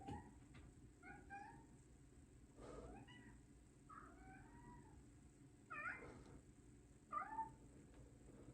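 A cat meows repeatedly, about six drawn-out, wavering calls spaced a second or so apart, faint and somewhat distant over a low background hum.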